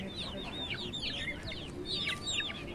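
Chickens cluck in repeated short bursts, with a few quick rising calls over a soft outdoor background, moderately close and with no talk, serving as a sound effect for a story.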